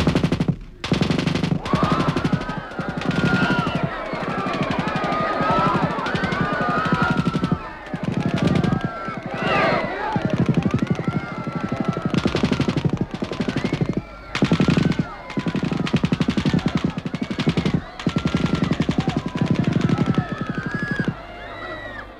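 In a radio drama, rapid bursts of machine gun fire crackle loudly and repeatedly throughout, broken by brief pauses, with faint shouting mixed in.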